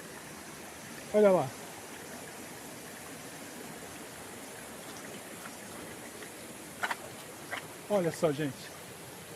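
A mountain stream in the Serra do Mar rushes with a steady, even hiss throughout, while a person speaks briefly at two points over the flowing water.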